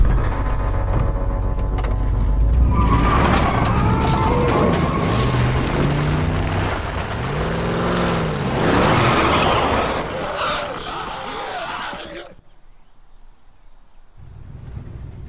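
A car revs and pulls away in the video game The Last of Us, a loud engine roar with rumbling, shifting pitch that cuts off abruptly near the end, leaving quieter ambience.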